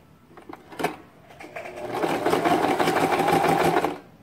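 Sewing machine stitching rows on a fabric card-holder pocket, a short buzzing run that starts with a few clicks and builds to a steady rapid whir before stopping.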